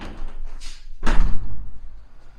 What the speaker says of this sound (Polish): Otworzę drzwi.